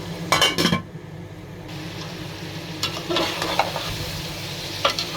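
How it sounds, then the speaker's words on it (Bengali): Beef braising in a cooking pot sizzles steadily while a spoon scrapes and clinks against the metal in short bursts near the start and again later, all fairly close and quiet. "আমি এই মাংসটারে আস্তে আস্তে লো ভালো করে কষিয়ে নিব"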